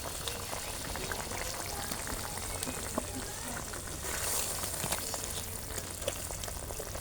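Fish curry broth with green banana bubbles at a rolling boil in a pot, with fried tilapia pieces about to go in; a steady close hiss and sizzle with small popping bubbles throughout, no talking.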